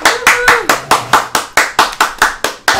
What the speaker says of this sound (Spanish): Un aplauso para Rosa